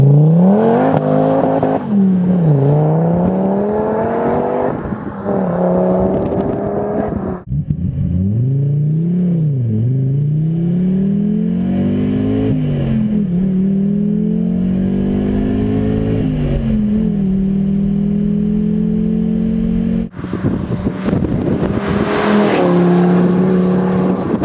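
A Donkervoort D8 GTO sports car accelerating hard, its engine note climbing through repeated gear changes in loud, close, rising sweeps with brief dips between shifts, and no talk over it.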